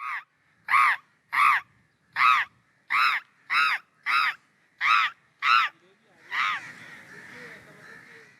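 A man in Karachi imitates crow caws, nine sharp harsh calls in a steady rhythm, followed by a softer trailing caw with background noise.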